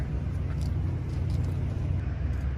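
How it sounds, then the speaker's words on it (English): A pickup truck rolls slowly forward on snow, giving a continuous low engine rumble close by with a steady drone throughout. "So, Savannah, would you roll the truck forward, please?"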